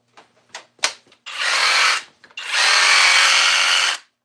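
A Flex-brand power tool, lighter than a Bosch, gives a few short trigger blips and then two sustained, loud, hissing high-speed runs of about a second and a half each, close by and with no talking over them.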